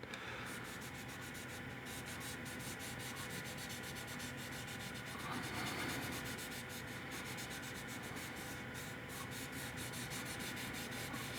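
Sandpaper rubs steadily over the body of a 1/12 scale Maserati 250F Streamliner model, a continuous close, quiet scratchy rasping with no pauses.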